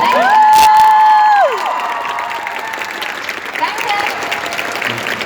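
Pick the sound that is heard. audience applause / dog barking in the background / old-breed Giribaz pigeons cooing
audience applause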